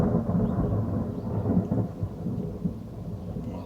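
Low, continuous rolling thunder rumbles through the whole stretch with steady rain, heard from below deck inside a small sailboat, no voices.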